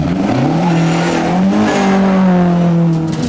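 A Hillman Avenger 1600 rally car drives a stage of the 2011 Galway International Rally, its engine loud and close, revving and rising in pitch as it accelerates.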